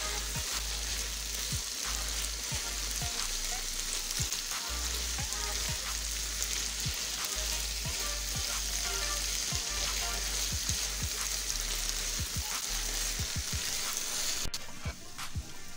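Minced meat keema with onions fries steadily in a pan, giving a continuous close sizzle with scattered crackles and pops throughout.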